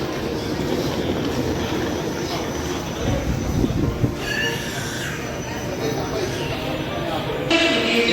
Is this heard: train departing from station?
yes